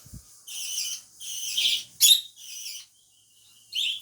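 Pet lovebirds in a small home aviary give a run of bright, high chirps in short bursts, with brief gaps between calls, close and fairly clear.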